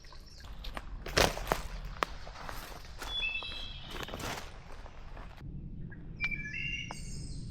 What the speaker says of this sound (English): can you hear all these birds?